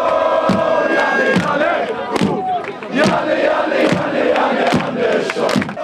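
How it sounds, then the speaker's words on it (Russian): Organized groups of Swedish football fans rehearse chants at the stadium in Samara, loud massed voices with repeated rhythmic shouts and claps punctuating a continuous crowd roar. "шведы репетируют кричалки"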